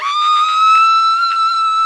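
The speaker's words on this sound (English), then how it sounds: "screaming," A human scream sound effect: one loud, sustained, high-pitched scream holding steady for nearly two seconds, close and alone.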